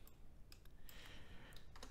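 Quiet, faint clicking of keys on a computer keyboard, a few irregular taps and short bursts close by in a silent room.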